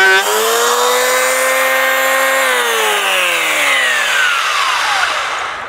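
An electric power tool spins up to a high, harmonic whine, holds steadily, then winds down as the motor slows, loud and close with no voices.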